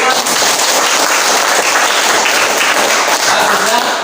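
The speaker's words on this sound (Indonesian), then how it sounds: "tepuk tangan untuk teman" A class of students applauds a classmate with loud, dense, crackling clapping that fills the whole stretch, close and continuous.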